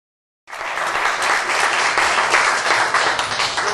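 A studio audience bursts into applause to vote in a poll. After half a second of silence, loud, dense clapping from many people starts abruptly and continues at an even level.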